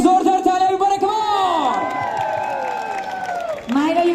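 A lively crowd cheers and whoops loudly, with sliding voices rising and falling over a bed of clapping, fading briefly before another burst of cheering.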